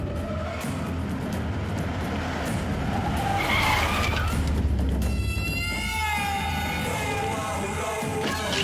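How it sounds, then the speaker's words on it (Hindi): A car skids in on squealing tires, loud and close over a busy dramatic mix, the screech rising in the second half before settling. "सरकार की गाड़ी आ रही है।"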